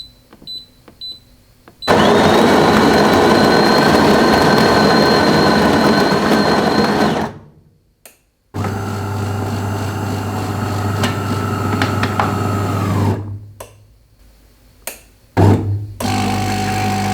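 A bean-to-cup coffee machine runs loudly at close range: a harsh, sustained grinding whir lasts several seconds and stops abruptly. A deeper humming pump phase follows, then it cuts out with a few clunks and brief bursts.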